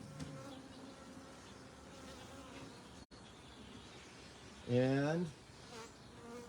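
Honey bees buzz steadily around an open hive during a spring hive split, with one louder bee passing close to the microphone near the end and a brief word spoken.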